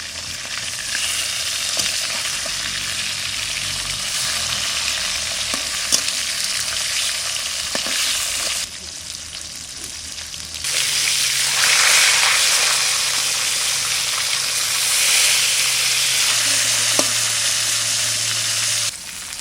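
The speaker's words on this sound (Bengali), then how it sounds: "এদিকে মাছ ভাজা হচ্ছে।" A large catla fish fries in hot oil in a pan, giving a steady loud sizzle that hisses on without pause and swells after a brief drop midway, with no talk over it.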